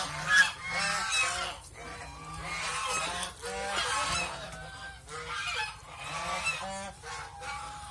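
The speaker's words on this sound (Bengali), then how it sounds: "উমে বসা আছে হাঁস।" A broody duck sitting on her eggs calls out in repeated nasal honking bursts, fairly close, with short pauses between calls.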